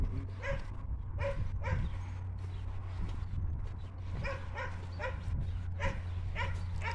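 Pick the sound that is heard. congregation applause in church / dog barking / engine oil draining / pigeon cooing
dog barking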